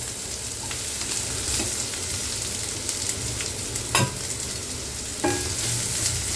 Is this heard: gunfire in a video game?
no